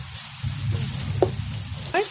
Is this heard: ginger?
yes